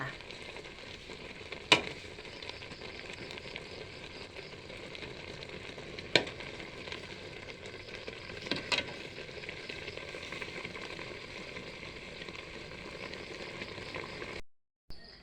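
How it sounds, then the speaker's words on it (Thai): Pork and egg curry bubbles in a pot, a soft, continuous simmering hiss held low and steady, broken by a few faint clinks of utensils. "ปล่อยให้เดือดอีกสักครู่จ้า"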